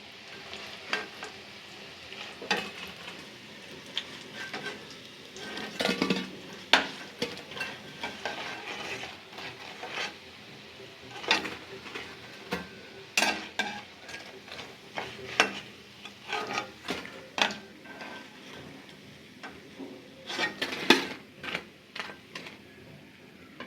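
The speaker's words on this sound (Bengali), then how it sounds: "চিকেন কাটলেট ভাজা হয়ে গেছে, এখন আমি একে একে নামিয়ে নিচ্ছি।" Chicken cutlets crackle in a frying pan, with intermittent clinks and scrapes as pieces are lifted out one by one, and no talking.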